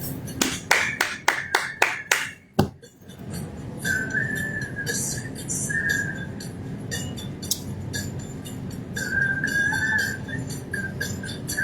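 Hand clapping by one person, a run of about eight sharp, close claps in quick succession followed by a single final clap, then a continuous whistling tone over steady background noise.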